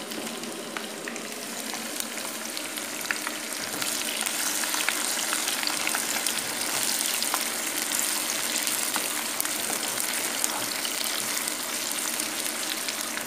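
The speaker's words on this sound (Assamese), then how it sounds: "তেলখিনি গৰম হোৱাৰ পিছত আপুনি ল' ফ্লেমতে থ'ব মছলাখিনি এইখিনি ভাজি" Spices sizzling in hot oil over a low flame for a jackfruit curry, a steady close crackle and hiss running evenly throughout with no voices.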